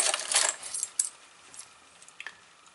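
Soviet coins clink and jingle as they are sorted by hand, bright metallic taps close by, busiest at the start and then thinning to a few scattered clicks.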